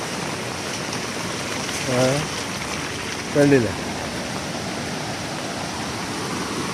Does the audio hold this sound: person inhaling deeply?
no